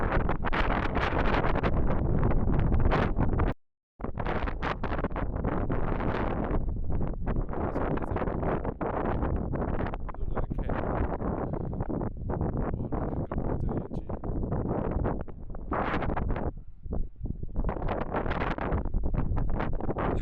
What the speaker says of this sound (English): that's how strong the wind is here